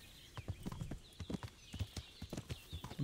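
Horse hooves clip-clopping as a rider travels along a path in the Kingdom Come video game, a quick irregular rhythm of soft thuds at moderate distance, fairly quiet with no talk.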